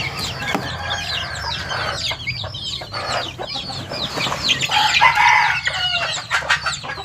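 Free-ranging farm chickens let out to forage, clucking busily in overlapping calls with a rooster crowing among them, fairly close and steady throughout with no talk.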